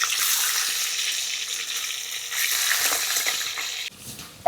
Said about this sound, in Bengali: এক পাশটা ভালো করে ভেজে নিয়েছি এবার উল্টে দিচ্ছি